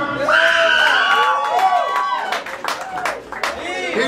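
A crowd at a live concert at The Delancey cheers and claps, with loud whoops and shouts layered over steady applause, close and dense throughout.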